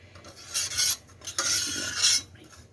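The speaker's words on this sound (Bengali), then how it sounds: "জিরাটা আমি একটুখানি নেড়ে নিব, জিরাটা একটু ভাজতে হবে" Cumin seeds fry in a pan while a utensil stirs them, scraping and rasping in a few loud sweeps over a soft sizzle, close by, with no talking.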